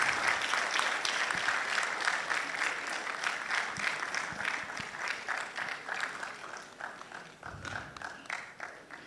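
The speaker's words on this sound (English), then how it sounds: "Another round of applause for him." Warm round of audience applause for a professor on a panel at a university business school's Management Day celebration, a full, sustained clapping that gradually thins out over several seconds.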